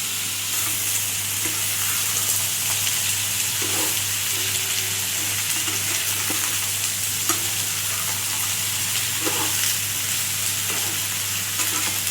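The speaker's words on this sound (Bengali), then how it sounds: "এর মধ্যে এখন আমি দেব, আমি সর্ষে ফোড়ন দেবো।" Continuous hot-oil sizzle with scattered small pops and crackles of mustard seeds spluttering in a pan for a neem leaf and brinjal dish, over a low steady hum.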